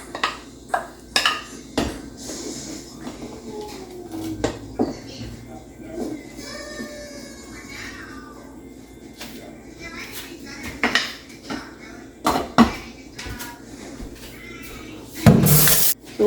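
Metal utensils clink and scrape against a pot of Jamaican rice and peas being stirred in scattered bursts, with a few louder clanks and someone talking intermittently nearby.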